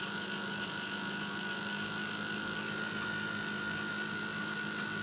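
A 12-phase low-RPM alternator power plant runs with a steady electrical hum and mechanical whine at even loudness, with no clear rise in pitch, and no one talking.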